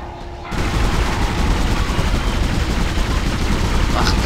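Rapid bursts of gunfire in the video game Dead Space crackle continuously at close range, dense and loud, starting abruptly after a brief quieter moment.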